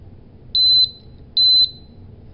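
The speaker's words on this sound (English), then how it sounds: "it'll beep once." A QRAE II gas detector being switched off gives two clear, loud high-pitched beeps about a second apart, with a third beep starting at the very end, over low background hum.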